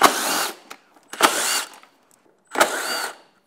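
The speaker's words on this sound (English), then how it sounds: "Now we'll jump to the underside, go to a Torx 30 driver." A powered Torx 30 driver removes fasteners from a motorcycle's plastic tail fairing in three short, close whirring bursts, each about half a second long, separated by brief quiet gaps.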